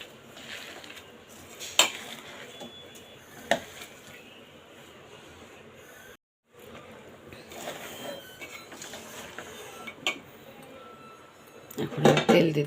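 Small fish being mixed by hand in a bowl, soft wet squelching with scattered clinks of the bowl and a few sharper knocks, fairly quiet and close, louder rustling at the end.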